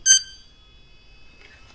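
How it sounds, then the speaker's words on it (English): A single short electronic beep from a Hosim 1:8 X25 RC truck, sharp at the start, followed by a thin lingering tone and faint low hum. "I got a beep"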